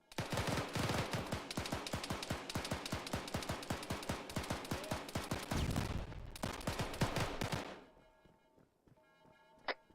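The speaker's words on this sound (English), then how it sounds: "That's a lot of shooting with no one saying anything" Rapid gunfire in an AR squad training video game, a dense string of loud, close bursts pounding for several seconds before cutting off into quiet with one last distant shot.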